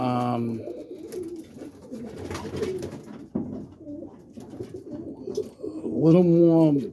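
Roller pigeons in a small coop cooing repeatedly, close and fairly loud, with soft rustling and someone talking between and over the calls.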